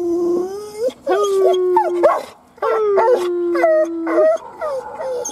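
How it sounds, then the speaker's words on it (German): Several dogs howl and bark in long, wavering tones with yips and whimpers between, loud and close, filling about five seconds with brief pauses. "Jetzt kommen alle Hunde durch."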